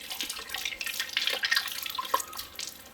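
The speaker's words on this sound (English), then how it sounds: "So I can just wash this." Recycled glass beads are washed under running water in Ghana, with a steady splashing tap stream and bright clinks of glass over a continuous watery hiss, close by and with no talking.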